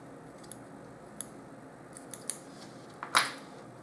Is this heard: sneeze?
no